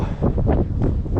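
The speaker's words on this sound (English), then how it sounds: "it is really windy" Strong gusts of wind buffet the microphone on a street in Midland, Michigan, a steady low roar with rising and falling surges over about a second.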